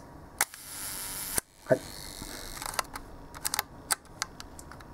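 A 1955 Leica M3 double-stroke rangefinder camera fires its shutter at a slow one-second speed, with a sharp mechanical click, a brief whir and a second click, then soft handling clicks close by. Someone speaks briefly and quietly.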